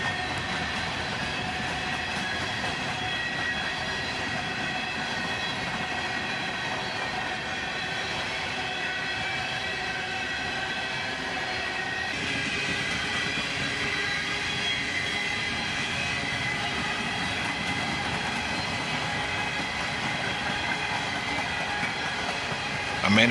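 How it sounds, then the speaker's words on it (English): A long CSX freight train of empty cars rolls past steadily, a continuous rumbling roar with rail clatter and faint squeal that holds evenly throughout, close and loud, with no talk. "And finally, about 4 minutes later, the end of the train went by."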